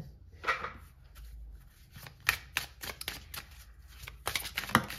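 Tarot-style cards are shuffled and drawn for a card reading, with brisk riffling flutters and soft slaps in irregular bursts, close and quiet with no talk.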